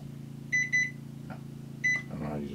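A microwave oven hums steadily with a low drone, punctuated by a pair of bright beeps, then another beep later, before the hum shifts to a rougher rattle near the end; no voices.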